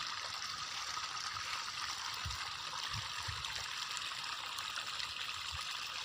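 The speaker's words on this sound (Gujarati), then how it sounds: "અને ક્યારામાં પાણી ચડી ગયું છે." Irrigation water from a motor pump flowing steadily into wheat field beds on a village farm, a continuous broad rushing trickle with occasional soft low gurgles, moderately faint and alone without talk.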